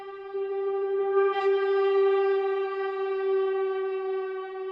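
Synth in a trance track, a single sustained, buzzy harmonic tone that holds steadily at moderate loudness for several seconds, with no voices.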